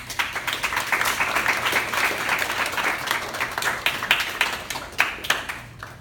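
Sustained applause from an audience at a speaking engagement, dense clapping that stays steady for several seconds before thinning slightly toward the end.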